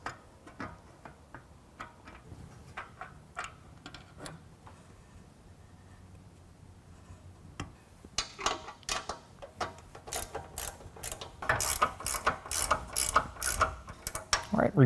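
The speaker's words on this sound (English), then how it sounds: "then when everything is lined up, we can tighten it down with a 7/16" A hand ratchet tightens nuts with a 7/16 socket on Go Rhino SRM500 roof rack brackets fitted to a 2022 Jeep Wrangler, giving close, sharp clicking strokes that start sparse and quicken into dense, loud ratcheting near the end.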